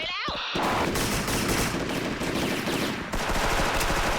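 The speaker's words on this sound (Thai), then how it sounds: "กูได้ยินเสียงกลหนักด้วยอะ" Dense, sustained heavy machine gun fire in the online shooter game Special Force rattles continuously, loud and close, after a brief tonal sweep at the start.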